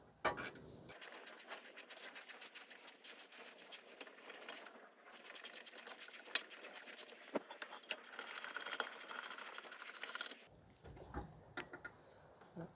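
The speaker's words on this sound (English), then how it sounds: "I'm just gonna use a ratcheting wrench" A ratcheting wrench turns brake bolts on a 2015 Toyota Sienna 3.5 V6 during a rear rotor and pad job, producing close, rapid clicking bursts with a short pause between runs and no talk.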